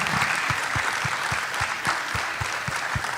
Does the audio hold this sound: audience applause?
yes